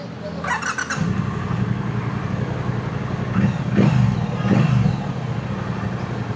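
A Triumph Bonneville Bobber motorcycle engine rumbles steadily nearby, with a couple of revs swelling and falling back mid-way over a constant low idle, plus faint high squeals.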